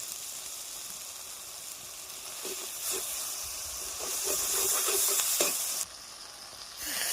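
Mustard paste and cumin powder hit a hot pan, and a loud hissing sizzle swells and rises, with a few scraping stirs in between before the hiss briefly drops; no voices.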